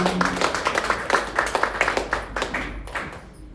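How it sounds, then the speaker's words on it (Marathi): A burst of applause, quick irregular claps from a group of people, fading out toward the end. "आयर बाबांसाठी टाळ्या वाजवा."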